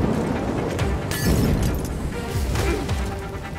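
Explosions and crashing debris in the Gotham Knights video game, several muffled booms and bursts over a rumbling background, with brief shattering bursts around the middle and near the end.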